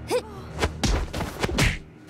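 A civilian knocked out in Shadow Tactics: Blades of the Shogun: a brief vocal sound, then a series of dull, close thuds and thumps in quick succession.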